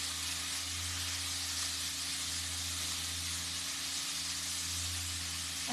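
Sliced bacon squares frying in a hot pan give a steady, even sizzle and hiss, close and constant, with a low electrical hum underneath and no talking.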